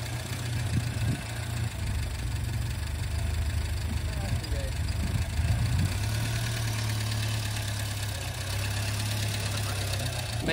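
A car engine idles steadily after an idle-speed adjustment, a low rumbling drone with a faint knocking texture that shifts slightly in pitch, while people talk nearby.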